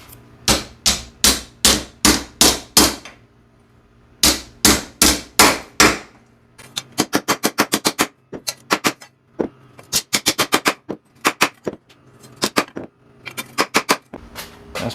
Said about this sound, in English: See if we can get the rest with this shop hammer.